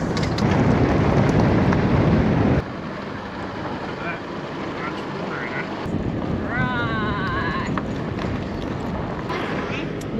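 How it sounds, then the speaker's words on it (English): A four-wheel drive vehicle fitted with a snorkel pushes through a river crossing on a bush track in the Grampians, Australia, with loud rushing, splashing water and engine rumble that drops suddenly partway through, plus a brief high squeal. "how'd you like that river crossing?"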